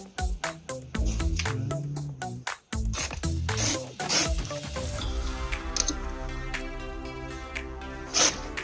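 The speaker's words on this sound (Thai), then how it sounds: "ก็ฉีกกระดาษ ตรงที่เหลือออกได้เลยนะครับ" Paper is torn by hand after folding during origami, heard as a quick run of close, crisp rips and rustles, followed by softer crinkling and handling sounds.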